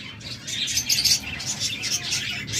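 Fischer's lovebirds chirp in a breeding cage, a busy run of bright, close tweets and calls that rise and fall over a low background rumble.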